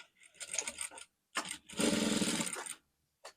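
A sewing machine top-stitches a seam allowance onto the upper part of a drawstring jumpsuit, running in short, close bursts of rapid needle clatter separated by brief pauses, with one longer run in the middle.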